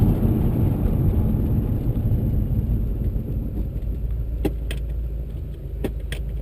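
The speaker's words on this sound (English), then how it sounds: "Now we'll just do a first gear takeoff." A Whipple-supercharged Holden VE Maloo makes a first-gear takeoff with wheelspin, a loud sustained engine roar that eases slightly, joined near the end by a few sharp rattling clicks.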